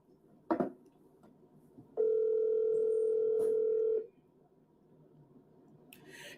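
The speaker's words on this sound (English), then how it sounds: "So now I call that number." A telephone dial tone while calling a hotline: a steady, loud two-second tone after a click, followed by quiet line hiss and a faint later beep.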